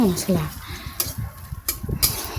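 Ground spice paste fries gently in a pan over low heat for a taro-and-lentil-dumpling curry, a soft sizzle with a few sharp utensil clicks, while a voice speaks briefly at the start.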